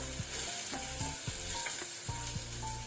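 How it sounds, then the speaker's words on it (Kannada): Green chillies fry in a pan, giving a soft continuous sizzle broken by several knocks and scrapes of a spoon stirring, fairly quiet and close. "ಆನಂತರ ಗ್ರೀನ್ ಚಿಲ್ಲಿ ಹಸಿಮೆಣಸು, ಇದನ್ನೀಗ ನಾವು ಗೋಲ್ಡನ್ ಬ್ರೌನ್ ಆಗೋ ತನಕ ಫ್ರೈ ಮಾಡ್ಕೊಳ್ಬೇಕು"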